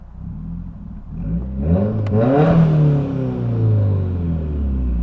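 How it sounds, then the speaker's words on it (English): A Subaru WRX turbo engine revs up loudly close by and then settles back, with the turbo blow-off valve releasing a brief sharp whoosh at the peak of the rev. "Brian O'Connor Eclipse blow-off valve sounds again, which is awesome"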